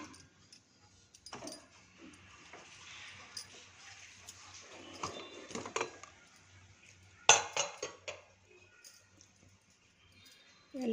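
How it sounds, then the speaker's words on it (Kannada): A pressure cooker lid is pulled off after two whistles of cooking fenugreek-leaf rice, giving a few close metallic clanks and clinks with a sharp knock near the middle, amid quiet kitchen handling. "ಇವಾಗ ಮುಚ್ಚಳ ತೆಗಿಯೋಣ"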